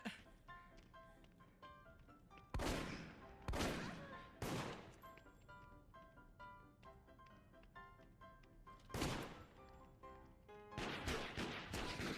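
Gunfire in the video game Deceit, several sharp, loud bursts of shots spaced irregularly over a quieter game background, with a final cluster near the end.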